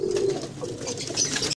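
A pigeon coos close by, a short soft throaty burble repeating over a moment, with faint rustling around it.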